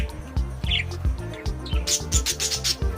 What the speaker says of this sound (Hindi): ये देखो बच्चों, बजरीगार। बजरीगार को हिंदी में बजरीगर कहते हैं।